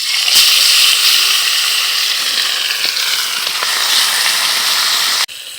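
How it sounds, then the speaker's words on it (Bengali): Fish sliding into hot oil in a village kitchen, a loud, steady sizzling hiss that fills the whole stretch, then cuts off sharply near the end, with no voices. "মাছটা তেলের উপর ছেড়ে দেবো।"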